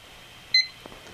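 A single short electronic beep from an auction countdown timer, sharp and clear against a quiet background, with no one talking.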